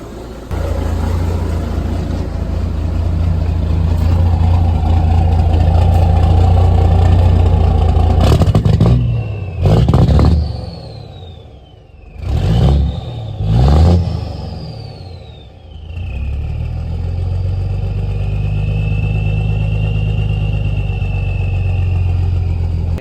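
A 1978 Marmon cabover truck with a Cummins Big Cam 400 diesel runs with a loud, deep idle rumble, breaking midway into brief revs and clattering surges before settling back to a steady idle.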